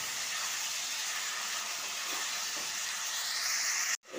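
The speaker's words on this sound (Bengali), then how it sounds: "কিমাটা তুলে দিয়েছি, আগে এটাকে আমি ভালো করে ভাজা ভাজা করে দেবো।" Minced chicken sizzling and frying in a pan with onions, a steady close hiss that holds throughout, then cuts out abruptly near the end.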